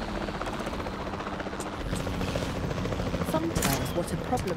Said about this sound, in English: Why have I decided to take control of the chopper?